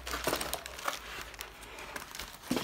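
Crinkling and crumpling of tight plastic and cardboard packaging as a DX Last Pandora Panel toy is pulled free, a busy run of close rustles with a few sharper bursts near the start and end.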